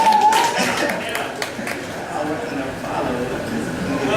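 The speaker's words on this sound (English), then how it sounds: "They got to clap now." An audience at a spoken-word poetry night claps in scattered, uneven bursts, mixed with crowd chatter and a performer talking over it.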